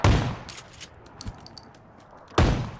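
Gunshots in PUBG, a video game: a sharp loud report opening, a few lighter distant cracks and pings in between, then another heavy shot near the end, close and punchy against quiet gameplay.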